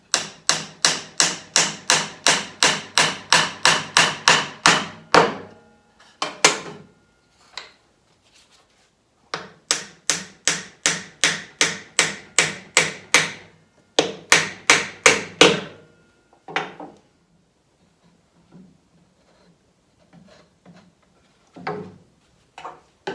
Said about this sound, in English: Drive the dovetail down into the piece while it's on the bench.